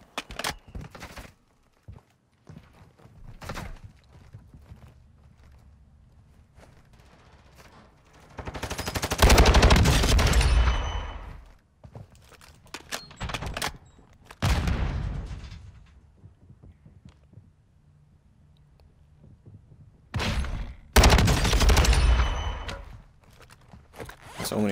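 Assault rifle fire from a Lachmann 556 in the video game Warzone 2 comes in several loud automatic bursts of rapid shots. Quieter single shots and footsteps fall between the bursts, and a voice briefly talks.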